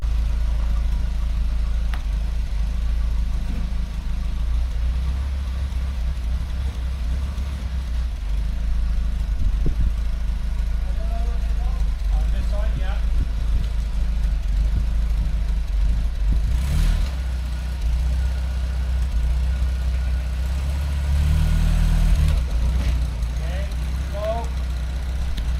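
A BMW 2002 engine runs on its first start after restoration, a steady low idle rumble that holds throughout, with people talking nearby over it.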